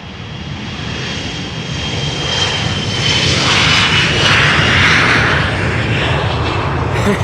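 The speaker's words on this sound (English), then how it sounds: "the retro liveried 777 to Jakarta is lining up on center" A retro-liveried Boeing 777 bound for Jakarta spools up and departs from Amsterdam Schiphol, a loud jet engine roar swelling and peaking near the middle before easing slightly.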